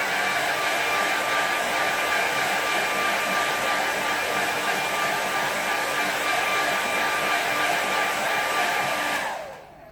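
Hair dryer blowing steadily on a watercolour painting, a loud, constant close whir that holds for nearly ten seconds before cutting off abruptly at the end.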